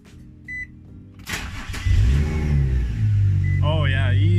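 An Infiniti G35 coupe with a broken starter: a short beep, a brief crank, then the engine catches into a loud, rough idle that rises into a rev near the end.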